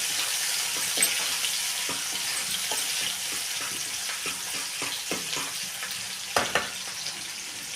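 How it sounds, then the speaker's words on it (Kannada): Chopped onions and curry leaves sizzle and fry in a pan while a spoon stirs them, a steady crackling hiss with soft occasional scrapes and taps, close and moderately loud, with no talking. "ಉಳ್ಳಾಗಡ್ಡಿ, ಕರಿಬೇವು ಹಾಕೊಂಡು ಚೆನ್ನಾಗಿ ಸೇರಿಸ್ತೀರಿ."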